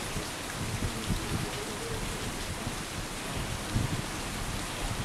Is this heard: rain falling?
yes